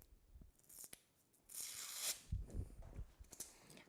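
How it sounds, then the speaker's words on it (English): A backing sticker is peeled off a rhinestone transfer for a custom T-shirt number. It gives a quiet, close, crackly rip lasting about half a second, with soft rustling and small crinkles before and after. "obviously I need to take off this sticker here"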